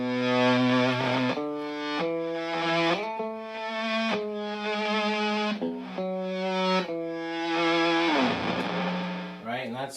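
Electric guitar plays single notes through an Electro Harmonix Attack Decay pedal, giving a distorted tone; a slow run of sustained notes steps up and down in pitch, each note swelling and ringing before the next.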